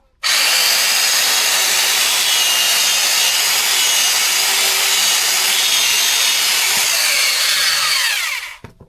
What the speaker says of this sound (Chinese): 那你挑没钉子的也锯吧